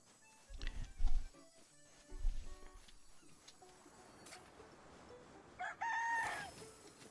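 A rooster crows in Luma Island, with two loud, close clucking bursts followed by a higher drawn-out crow near the end over soft background ambience.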